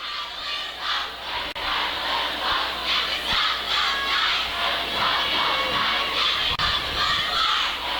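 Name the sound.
cheerleaders firing up the football crowd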